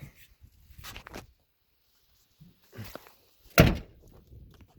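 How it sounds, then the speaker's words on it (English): A few soft knocks and shuffles, then one solid close thunk of an old Ford or Chevy car door shutting, with quiet pauses between. "Door still closes good."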